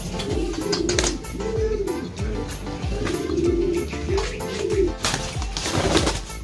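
Pigeons cooing close by in a repeated series of low, rolling calls, with rustling and faint background noise.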